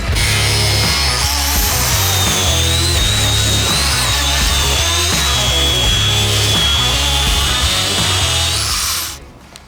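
Power tool cutting parts off a wrecked Nissan R35 GTR during a rebuild, a loud steady whining grind with shifting high-pitched tones running continuously for about nine seconds before cutting off abruptly near the end.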